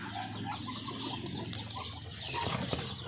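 Chickens and chicks cluck and peep continuously while being fed, a busy nearby chorus of overlapping calls with light rustling, no one speaking.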